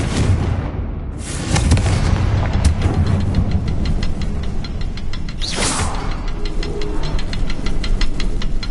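In a video game, the Confringo spell sets off loud, booming blasts with rumbling crackle. Sharper bursts break out amid a dense, continuous roar of explosions and debris.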